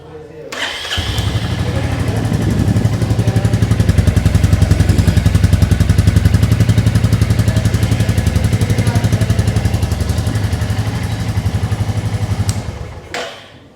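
A 2024 Royal Enfield Classic 350 motorcycle with dual-channel ABS starts up and settles into a steady, thumping single-cylinder idle, loud and close, with a deep, even exhaust beat running for about twelve seconds before cutting off.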